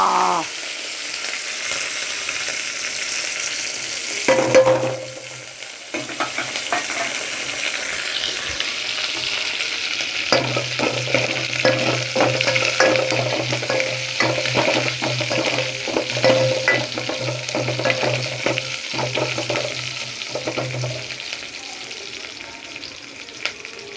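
Crushed garlic, dried chillies and curry leaves fry in a pan with a continuous hissing sizzle, punctuated by repeated spatula scrapes and stirring clatters, close up and fairly loud throughout.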